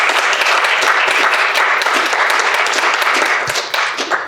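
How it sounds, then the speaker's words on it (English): A fireside-chat audience claps steadily and loudly for someone on stage, a dense continuous wash of hand claps that eases slightly toward the end. "Clap it up for Jordan, please."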